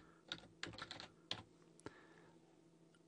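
Someone typing on a computer keyboard, a short run of quiet, close key clicks in uneven bursts that stop after a moment.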